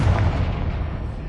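A Confringo spell explosion in Hogwarts Legacy, a single loud, deep boom that rumbles and fades over about a second.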